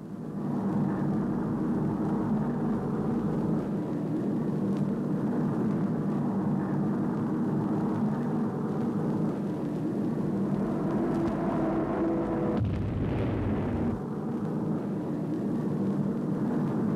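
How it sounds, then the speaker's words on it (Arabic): French military aircraft, fighter planes and napalm bombers, drone overhead as a steady, loud engine roar that holds evenly throughout, shifting pitch briefly near the end. "يستخدم أنواعا كثيرة من الطائرات، مثل المقاتلات وقاذفات قنابل النابالم الحارقة"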